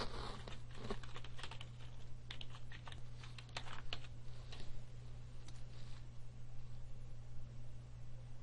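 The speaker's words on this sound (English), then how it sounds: "I could type my search terms into the box" Search terms are typed on a computer keyboard, with quick close key clicks in uneven bursts over a faint steady hum, gradually thinning out; no speech.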